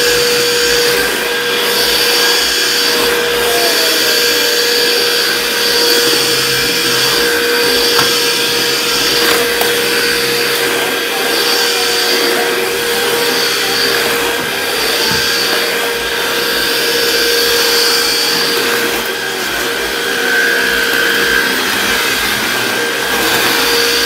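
A cordless vacuum cleaner runs indoors at home with a steady, close, continuous whirring drone and a constant motor whine, and no voices are heard.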